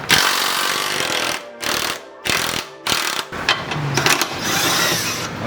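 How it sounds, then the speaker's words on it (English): A power tool spins out 17 mm bolts on a Subaru Impreza, loud rattling, ratcheting bursts broken by brief pauses, close to the listener and with no talking. "Let me grab the tool to remove the bolts."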